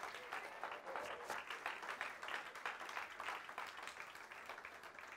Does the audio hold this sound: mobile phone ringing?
no